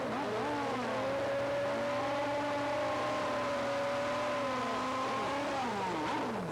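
Funny Bike drag racing motorcycles at a 1989 IDBA final roar steadily down the strip, a loud sustained engine howl with rising and falling pitch as they accelerate, with no voices over it.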